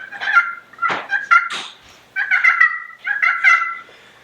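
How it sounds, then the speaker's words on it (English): Soft rolling purrs scraped on a crystal-over-slate turkey pot call, several short fluttering bursts with brief gaps, close and clear with no talking. "you can make a purr,"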